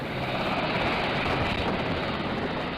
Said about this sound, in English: The officers, with the classified hard drives in hand, soon board an HS-60 Seahawk helicopter and leave Nimitz.